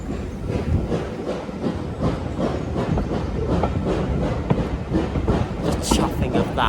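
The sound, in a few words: steam locomotive chuffing on the West Somerset Railway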